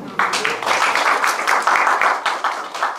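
An audience claps steadily through a film screening Q&A event, a dense, sustained patter of applause near and loud with no clear pauses.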